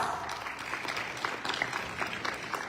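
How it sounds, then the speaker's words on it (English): Audience applause at a Model United Nations event, a steady wash of many hands clapping at moderate volume, fairly distant and sustained throughout without speech. "Please give it a big round of applause"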